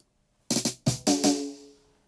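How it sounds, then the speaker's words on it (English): A dry drum roll with no reverb plays as a quick cluster of close, punchy tom hits in two short bursts. The last hits ring out briefly with a pitched tone and the clip has no voices. "drums, they're dry and they sound like this"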